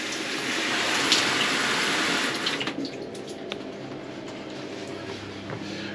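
Water gushes strongly through a newly fitted shower valve as the supply is turned back on, a loud steady rush for about two seconds before dropping to a quieter, thinner flow with small knocks and drips.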